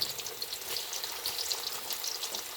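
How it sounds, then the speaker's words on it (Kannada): Nendra banana slices frying in coconut oil for chips, a steady bubbling crackle with small popping bursts, close and fairly quiet, with no one speaking. "ಇದನ್ನು ನಾವು ಎಣ್ಣೆಯಲ್ಲಿ, ತೆಂಗಿನ ಎಣ್ಣೆಯಲ್ಲಿ ಹಾಕಿ ಹುರಿಲಿಕ್ಕೆ ಶುರು ಮಾಡ್ತೇವೆ"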